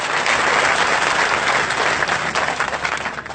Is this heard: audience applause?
yes